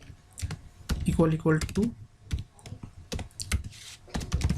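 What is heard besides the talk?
typing code on a computer keyboard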